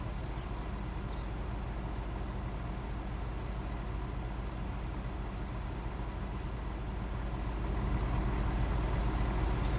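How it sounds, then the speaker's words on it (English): Tractor engine in the Farming Simulator 19 video game during field work, a steady low idling rumble that runs continuously and grows slightly louder near the end. "I love the sound of this tractor."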